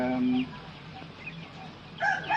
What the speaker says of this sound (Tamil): கோழி வந்துட்டு 50 கோழி இருக்குது